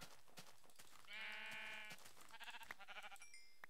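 A single sheep from the Minecraft video game bleats once, a clear mid-length wavering cry followed by a few soft game sounds, with no talk.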